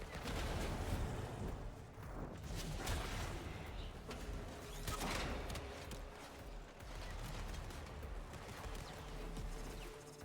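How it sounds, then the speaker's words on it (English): Heavy ordnance and torpedoes fired from a ship in the Warframe video game: a dense, continuous roar of rumbling blasts and booms that stays loud and sustained without any pause. "We need heavy ordnance. Fire torpedoes."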